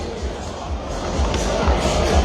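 Standing-room-only crowd at a USA vs Mexico boxing card inside the Cochise County Fairgrounds arena in Douglas, Arizona, a steady roar of cheering and chatter with a booming low rumble.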